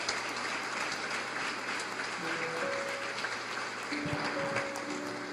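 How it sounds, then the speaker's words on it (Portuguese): Congregation applauding during a church service, steady dense clapping throughout with sustained organ or keyboard tones entering partway and continuing beneath the crowd noise. "Você pode aplaudir o Senhor"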